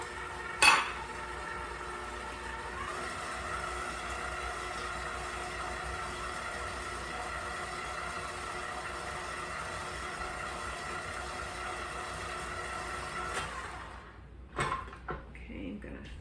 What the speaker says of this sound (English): I'm going to mix that again for another minute or 2 before I add the flour.